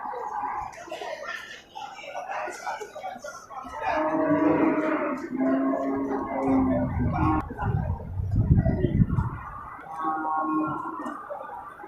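Cattle at a livestock market, including a large grey Simmental cross, give several loud drawn-out moos close by, overlapping one another amid crowd murmur and background voices.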